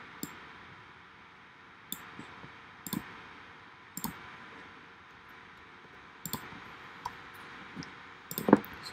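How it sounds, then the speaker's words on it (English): Sparse, isolated clicks sound on a quiet desk every couple of seconds while text is entered during Photoshop design work, with a denser cluster of clicks at the end and no talking. "I'm going to write chat app"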